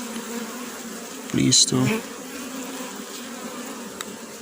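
Honey bees buzzing around hives during spring hive work, a steady soft drone throughout with a brief loud burst of nearby noise partway through and a short voice.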